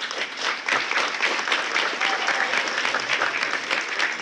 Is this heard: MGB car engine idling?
no